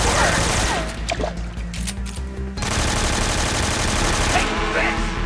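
Gunfire in the stealth action game Metal Gear Solid 3: Snake Eater, dense bursts of shots over a loud, busy game soundtrack, briefly dropping out midway before the barrage resumes.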